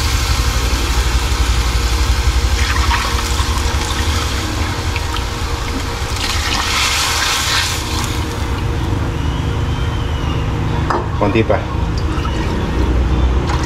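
Water pours steadily into a cooking pot of mackerel broth for several seconds over a constant engine-like hum, with a brief spoken remark partway through.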